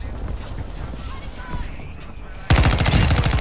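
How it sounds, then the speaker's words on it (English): Fireworks go off at a recess gathering: a loud burst of rapid crackling reports erupts after a stretch of windy, muffled background noise, with faint voices around. "We got fireworks going."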